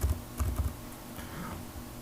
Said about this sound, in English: I want to see what I'm typing.